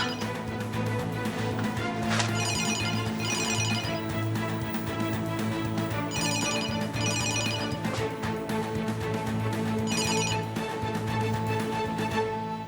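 A telephone rings repeatedly in regular bursts over a steady background of music or hum, with no one talking.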